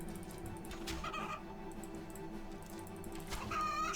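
Evil chickens clucking in RuneScape 3 during a Dominion Tower fight, a few short clucks and squawks rising over a steady, busy bed of game music and effects at moderate level.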